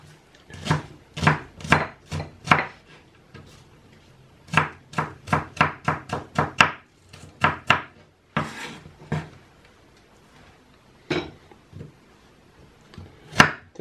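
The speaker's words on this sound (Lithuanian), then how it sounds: "Tam susipjaustom svogūną." Quick, crisp knife strokes dice an onion finely on a cutting board, arriving in uneven clusters of close taps with short gaps between them.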